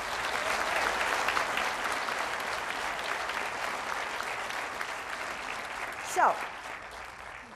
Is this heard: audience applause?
yes